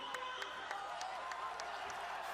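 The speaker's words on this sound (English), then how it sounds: "the crowd here at the Singapore Indoor Stadium, many of them on their feet, a lot of them applauding these two" A crowd at the Singapore Indoor Stadium applauds during a mixed martial arts fight, distant and faint, with scattered rhythmic claps and a commentator's voice over the murmur.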